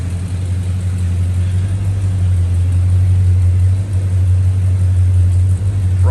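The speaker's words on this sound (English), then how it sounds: "He's got the Caddy pulled up." A Cadillac idles close by with a deep, steady low rumble that stays even throughout, with no voices.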